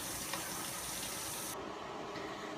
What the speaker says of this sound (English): Next, you have to fill up your pot up with water.